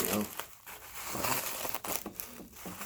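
Plastic packaging around a lightsaber hilt from Revan Sabers crinkles and crumples as it is unwrapped, close up and fairly loud, with handling noises and speech mixed in.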